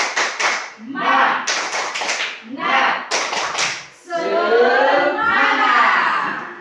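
Indonesian school staff gathering doing a tepuk semangat chant-clap: bursts of rhythmic group clapping in short patterned phrases, alternating with loud shouted group voices, close and lively.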